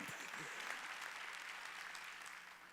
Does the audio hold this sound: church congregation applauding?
yes